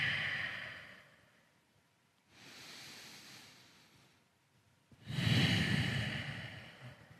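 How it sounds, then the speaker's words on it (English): Slow nasal breathing during a yoga glute stretch cool-down: a long soft exhale, a quieter inhale, then a louder, fuller breath, close to the microphone with no talking. "breathing in and out of the nose."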